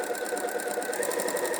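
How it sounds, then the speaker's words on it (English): A domestic sewing machine running a decorative zigzag stitch around a circle, a steady fast mechanical whirr with a rapid even needle rhythm, close and continuous, no talk. "Let's do a zigzag. And then sew in a circle."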